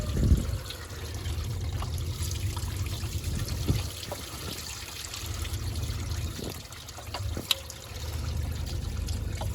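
Coolant trickles and splashes steadily from the water pump of a 2001-2007 Toyota Sequoia/Tundra 4.7L V8 into a catch pan, a continuous close liquid dribble with a few small clunks and taps, no talking.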